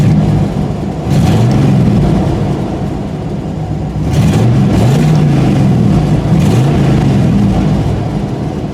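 A car engine runs loud and steady close by, rising in repeated revving swells over a deep rumbling idle.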